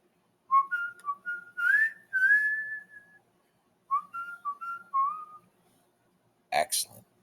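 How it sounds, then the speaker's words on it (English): A person whistles a quick, bright melody alone in two short phrases of gliding, bird-like notes separated by a pause, with a brief burst of noise at the very end. "I'll whistle a quick song to place this red dot."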